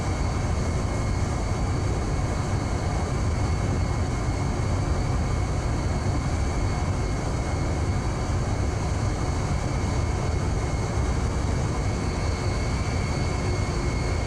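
Fast jet aircraft from the naval warfare game Sea Power arriving at around 250 knots, a steady, loud, broadband engine roar that holds constant throughout with no talk.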